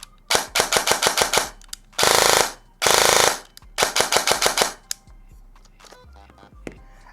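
Arcturus airsoft AEG rifle built with a Gate Titan II trigger unit, firing sharp close bursts: a few rapid single-shot strings and two longer full-auto bursts, loud and crisp with no talking.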